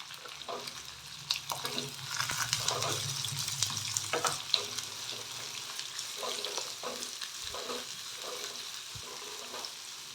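Onions, green chillies and curry leaves fry in a pan with a steady close sizzle, broken by repeated scraping stirs throughout.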